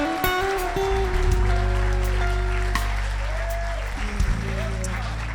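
Church congregation at a conference service applauding together, a dense, even wash of clapping sustained throughout, with organ or keyboard chords held underneath and voices mingling.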